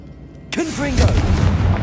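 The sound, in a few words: Confringo explosive spell blast in Hogwarts Legacy video game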